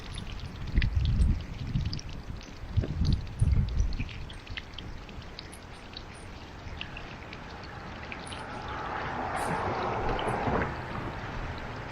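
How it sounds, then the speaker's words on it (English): Water runs out of the drain cock of a camper water tank in a steady, soft outdoor rush, with a few louder bumps early on and light wind noise, and no voices. "I just turn the water on until water starts coming out of the drain cock"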